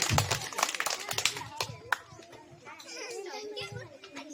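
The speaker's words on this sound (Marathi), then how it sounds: "टाळ्या पाहिजे त्यांच्यासाठी" A classroom of children claps in a burst of sharp, scattered slaps that fade after a couple of seconds, with lively children's voices and chatter carrying through and continuing afterward.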